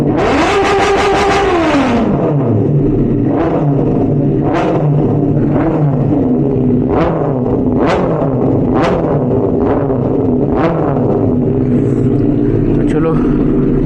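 Benelli 600i motorcycle engine idling after a cold start, loud and close. It gives a steady rumbling drone, revs briefly at the start, then blips the throttle a few times, with someone talking over it.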